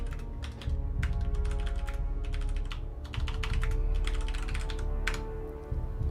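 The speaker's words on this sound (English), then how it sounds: "I don't like typing these commands" Commands typed on a computer keyboard in steady clustered bursts of keystrokes, close by, over a constant low hum with brief pauses between runs.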